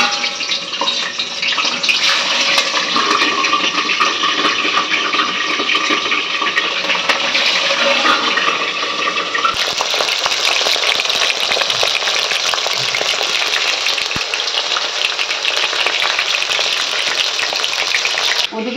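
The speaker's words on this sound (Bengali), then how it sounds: "ওদিকে মাছ ভাজা হচ্ছে" Fish fries in hot oil in a home kitchen, a loud, steady, crackling sizzle that continues for almost twenty seconds and shifts in texture partway through.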